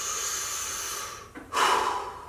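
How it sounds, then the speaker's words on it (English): Wim Hof breathing practice: loud, forceful breaths, a steady rushing exhale that tapers off, then a brief pause and a sharp, strong inhalation close to the listener, with no talking. "it's a very intense breathing"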